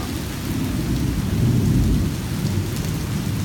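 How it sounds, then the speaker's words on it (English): Low thunder rumbles roll through a heavy New York City thunderstorm, a deep sustained rumble swelling midway over steady rain noise, with no voices. "like a thunderstorm rolled through, a few rumbles down there"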